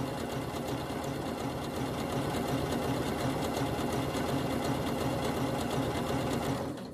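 A sewing machine runs continuously, stitching a French seam along the legs of NHS scrub trousers, with a fast, even mechanical chatter that stays close and steady for several seconds before slowing at the very end. No one talks.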